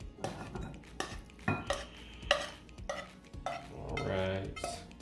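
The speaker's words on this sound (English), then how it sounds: "Mix it in thoroughly." Pasta being mixed in a pot gives soft, irregular scraping and clattering from a utensil against the pot, with a longer swishing stir toward the end, close and fairly quiet; no speech.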